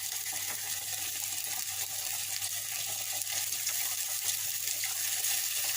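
A steady, loud sizzle as tamarind juice is poured into a hot pan of mixed lentil curry, a continuous hissing fry with faint stirring and bubbling throughout, no talking.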